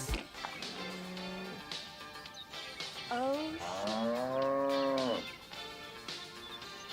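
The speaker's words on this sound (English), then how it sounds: "What is this song of these cows?" Cattle mooing loudly in several long, drawn-out calls, heard from a clip played during a Battlefield 2042 live stream, with voices and background noise mixed in.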